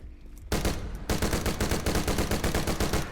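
An Airburst Tremor assault rifle fires in the Dead Frontier 2 video game. After a brief lead-in, loud rapid-fire bursts rattle out in a fast, even rhythm that fills the whole stretch.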